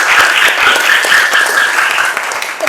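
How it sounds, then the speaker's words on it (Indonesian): Students in a school classroom clap together in a loud, steady burst of applause that carries on throughout and only thins slightly near the end. "Tepuk tangan buat kita semua."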